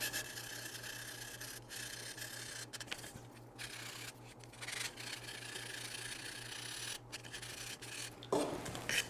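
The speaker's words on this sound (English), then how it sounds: "Now I'm going to take a medium sanding stick and just lightly polish the burr off the end." Steady dry rasping of a medium sanding stick lightly polishing a burr off the end of a part for a 1/48 scale Estes Soyuz booster model rocket, a continuous close scratchy rub with brief pauses and a louder scrape near the end.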